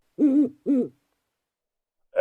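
Owls hooting as a sound effect in a Harry Potter audiobook, two clear, close hoots in quick succession, then silence before a third call begins.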